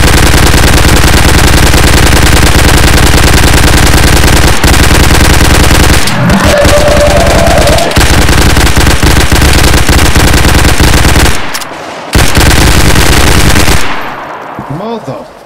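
Sustained machine gun fire in DayZ, very loud and close, in long continuous bursts that pause briefly before stopping near the end, with a voice briefly audible during a lull.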